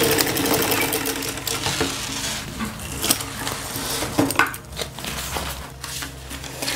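A sewing machine stitches a school pencil case, a fast, steady mechanical whir with a rhythmic needle chatter, close and continuous with brief pauses and no voices.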